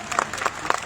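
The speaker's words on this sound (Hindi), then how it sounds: "जोरदार ताली बजाओ।" A crowd claps at a BJP political rally in Sangam Vihar, Delhi, during a municipal ward by-election campaign. The brief patter of applause sounds moderately close, with no clear talk over it.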